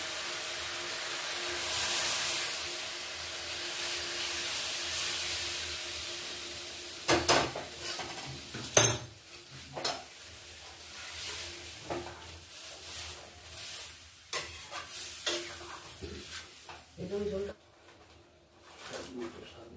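Warm water is poured into a pan of egg, potato and cauliflower curry with a steady hissing rush, then scattered stirring clinks and knocks follow while a person talks.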